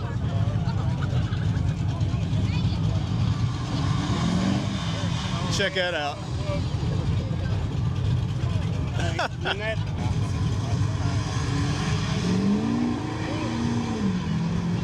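An old diesel farm truck runs at a big car cruise: a steady, rumbling engine drone continues throughout, with people talking over it and other vehicles passing briefly.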